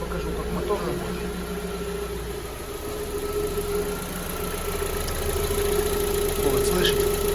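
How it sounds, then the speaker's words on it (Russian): An MG550 car engine idles steadily after warming up, a continuous low hum with a faint mechanical tick, slowly growing a little louder toward the end, with no talk over it. "Я сейчас покажу, как мотор работает."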